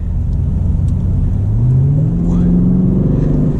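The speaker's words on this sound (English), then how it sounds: "this has over 600 horsepower from a turbocharged" A 2022 BMW Alpina B8's turbocharged 8-cylinder engine, over 600 horsepower, pulls hard from inside the cabin, its note climbing smoothly in pitch as the car accelerates, loud and close.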